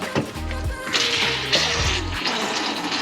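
Water gushes into an RV holding tank along with treatment powder, a loud splashing, gurgling pour with low thuds, strongest midway and then easing.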